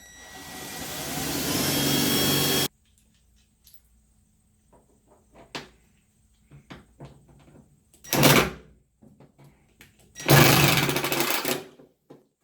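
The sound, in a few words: power drill drilling pilot hole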